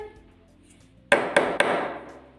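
Three sharp hammer taps in quick succession, close and fairly loud, each with a bright ringing attack, following a quiet stretch of faint background.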